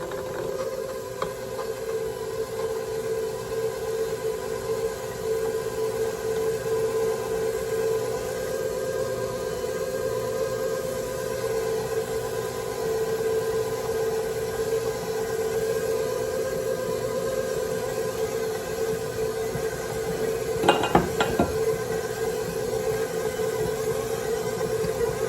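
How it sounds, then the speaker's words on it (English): An electric mixer runs on low through sugar cookie dough, a steady motor hum that stays constant and close, with a brief clatter near the end. "we're gonna keep the mixture on low and just add this in and mix it"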